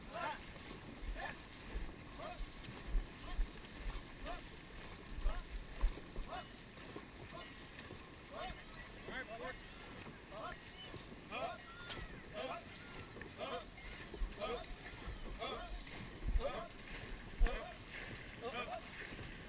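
Dragon boat paddles strike the water in a fast, regular rhythm of repeated splashes during a full race run, with wind noise and voices calling out over the strokes.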